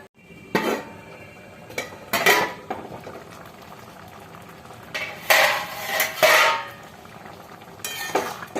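Cooking pot of lentils and bottle gourd being covered with its lid over a low flame, heard as a handful of separate metallic clanks and scrapes spread across the stretch, with a quiet bubbling simmer in between.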